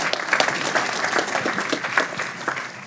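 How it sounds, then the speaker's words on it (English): A small audience at a downtown community forum gives a speaker a round of applause, with distinct individual claps clearly audible within a moderate, uneven burst of clapping heard close by. "Can we give Joyce a round of applause?"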